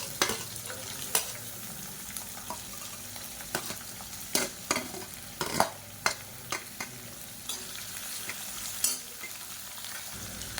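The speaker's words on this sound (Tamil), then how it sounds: "இப்போ இதில் மீடியம் சைஸாக ஒரு பெரிய வெங்காயம் நீளமாக நறுக்குனதை சேர்த்துக்கலாம்." Sliced onion frying in oil in a pan while being stirred for biryani, a quiet steady sizzle broken by repeated sharp scraping and clinking strokes of the spoon against the pan.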